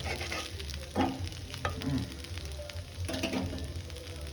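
Elephant foot yam pieces frying in oil in a pan, with a steady low sizzle and a few scraping stirs of a spatula near the start and end; no one speaks.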